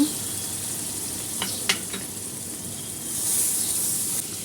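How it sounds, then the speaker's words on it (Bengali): A spice mix for Bengali prawn bhuna being stir-fried with coconut milk, a steady close sizzle with a few scraping stirs of the spoon and a brief rise in hiss near the end. "নারকেলের দুধ দিয়ে আবারও ভালোভাবে কষিয়ে নেব"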